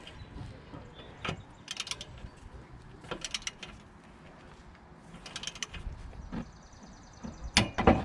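A torque wrench clicks and ratchets on brake caliper bolts of an MK4 GTI/Jetta front brake job, set to 60 foot-pounds, giving sharp metallic clicks in uneven bursts with quieter handling noises between.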